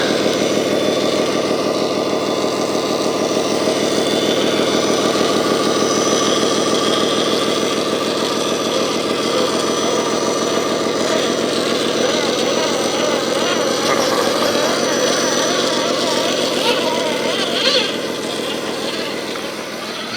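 An RC truck with a new driveline drives through mud, its electric motor whining loud and continuous with pitch rising and falling as it throttles, tapering slightly at the end.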